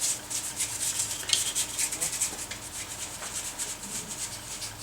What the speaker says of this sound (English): with a little soft brush, go around all the outside edges to remove any contaminant